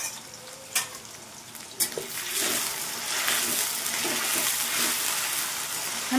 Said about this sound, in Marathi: चिरून घेतलेला बटाटा स्वच्छ धुवून घेतलेला आहे, तेही फ्राय करणार।